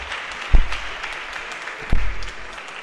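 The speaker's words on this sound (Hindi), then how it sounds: "यह इस बात पे तालियां काफ़ी बजी हैं" Audience applause fills a lecture hall during a talk on the individual's role in society: a steady wash of clapping with two heavier thumps, no one speaking over it.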